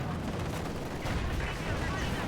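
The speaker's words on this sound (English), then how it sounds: "Field gun there flanking the Stug, but doesn't hit it." Field gun and tank cannon fire in the World War II strategy game Company of Heroes 2, a dense, continuous run of booms and gunfire with a commentator's voice talking over it.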